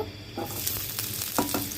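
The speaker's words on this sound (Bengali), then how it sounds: "পেঁয়াজ কুচি দিয়ে নেব।" Chopped onion sizzling in hot oil, a dense hiss broken by a few quick stirring scrapes.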